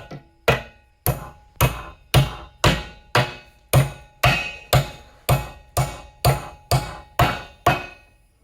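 Repeated metal hammer strikes on a rusted roll pin in a Kuhn GA 6000 rake rotor arm, about fourteen sharp loud blows at a steady rhythm, close by with no talking.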